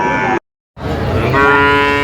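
Sahiwal cattle moo loudly and close by at a livestock market, one call cut off by a brief silence, then a long, drawn-out bellow that carries to the end.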